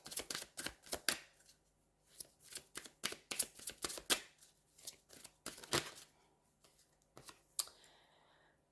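Tarot cards are shuffled close up, a series of quick riffling bursts and crisp flicks with short pauses between them, heard alone without talk.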